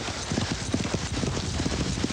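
A racehorse's hooves beat a steady galloping rhythm on a track, close and moderately loud throughout the short stretch with no talk over it.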